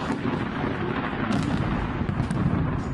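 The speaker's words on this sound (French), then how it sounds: "On est en Italie avec des orages, des éclairs." A thunderstorm in Italy with lightning, heard as a loud, sustained broadband rumble of thunder that rolls on without a break, swelling slightly partway through, with no voices over it.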